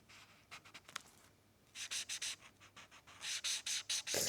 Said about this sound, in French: J'adore le bruit du crayon sur le papier.